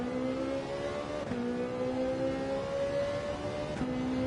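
A Ferrari racing on a track in Gran Turismo 7, its engine holding a steady, loud drone with clear gear-change steps in pitch, continuous and alone without any talk.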